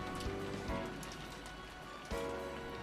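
Steady rain with wind from the Umineko visual novel, a continuous hiss of falling drops and gusts that swells slightly near the end, heard alone.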